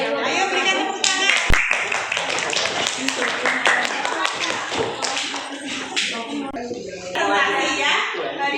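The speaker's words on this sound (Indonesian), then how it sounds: "Ayo berikan tepuk tangan." A classroom of students clapping hands during a teaching practice session, scattered sharp claps and taps mixed with chatter and shuffling, fairly close, over several seconds.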